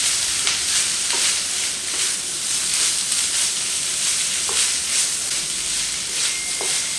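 Already-cooked rice tossed into a frying pan for fried rice gives a steady, loud sizzle with occasional soft scrapes and taps of the stirring utensil, and no talking.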